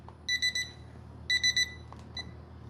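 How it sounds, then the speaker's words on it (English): An alarm beeps in two quick bursts of three rapid electronic tones each, followed by a couple of softer blips, moderately loud and close, with no talk over it. "That's my alarm."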